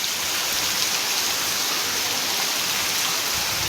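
Heavy rain pours outdoors at a farm field during a downpour, a steady, dense broadband hiss with no gaps and no voices.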